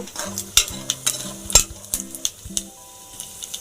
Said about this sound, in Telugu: పప్పులు కూడా బాగా వేగిపోయాయి చూడండి